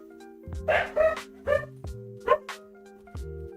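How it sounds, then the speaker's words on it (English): Several dogs bark in short bursts, about five loud yaps and woofs spread across a few seconds over a steady background hum, heard during a livestreamed Illuvium game tournament. "Sorry, we got some dogs here"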